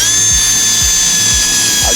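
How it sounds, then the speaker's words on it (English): A power drill bores a hole in a dinghy transom with a loud, close, high-pitched whine, its pitch pulsing rhythmically as it cuts through the material. "What I'll do is I'll drill that one next."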